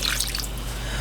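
Water pours into a crock pot holding chicken breasts, a steady close trickling and splashing that runs without a break through the short moment, with no voices.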